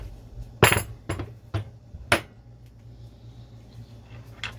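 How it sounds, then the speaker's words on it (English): Nuts and lock washers go onto ball joint bolts on a 1977 Corvette lower control arm, with a few sharp metallic clinks and taps in the first half, then quieter faint handling noises. "I just have to put in the nuts on them."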